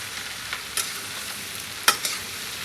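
Vegetable curry being stirred and fried in a pan on a stove, a steady soft sizzle with occasional scraping strokes of a spoon, close by and with no talk.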